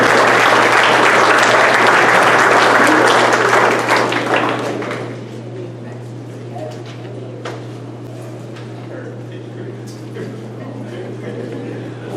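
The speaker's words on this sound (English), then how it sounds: "let's give one more round of applause for our second team" A round of applause for the second-team honorees at a DeKalb County Dugout Club awards ceremony: loud dense clapping for about four seconds, then tapering off to scattered claps and quiet room noise with a steady low hum.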